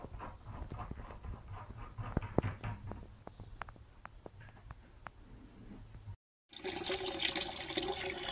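Mains water runs through a valve into a wheelie bin buffer tank, a steady low rush with light splashy ticks, moderately quiet, followed after a brief gap by a louder, fuller gushing flow.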